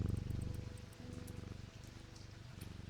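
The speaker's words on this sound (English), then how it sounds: "Let's try that purr again." A cat purr sound effect plays softly and up close, a low rhythmic rumble that pulses steadily and continuously for a few seconds with no voices.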